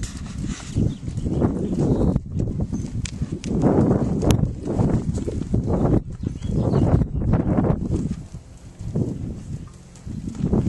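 A Paint horse walks a circle under a rider, its hooves falling in a steady, close clip-clop rhythm with brief pauses, bird calls faint in the background.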